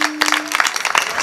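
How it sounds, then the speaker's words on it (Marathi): An audience at a devotional kirtan claps along in quick rhythm, a dense burst of hand claps close and steady over a brief moment. "वाजवा टाळ्या, वाजवा, मोकळ्या मनानं वाजवा."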